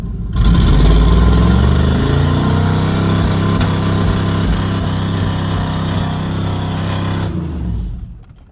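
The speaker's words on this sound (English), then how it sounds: "Let's see if she does a little burnout." A truck engine revving hard and loud during a burnout, a sustained roaring drone that holds for several seconds and then cuts off.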